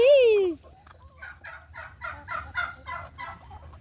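Backyard turkey flock gobbling, a rapid run of short rattling calls after a brief loud tone at the start, with a voice nearby.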